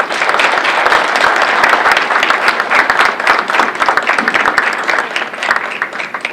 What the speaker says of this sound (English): Please, with your hands together, give him a warm applause